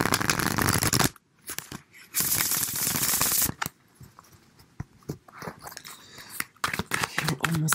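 Tarot cards are shuffled in loud bursts of riffling and flicking, broken by brief pauses, with a person talking intermittently over the card noise.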